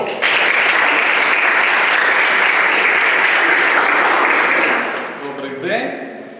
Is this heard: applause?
yes